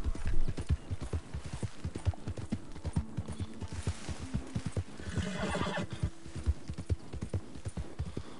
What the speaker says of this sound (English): I see a bunch of wild horses.